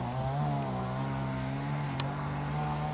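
A neighbours' motorized grass trimmer runs steadily outdoors in an autumn garden, a constant buzzing engine drone at moderate distance with no voices over it.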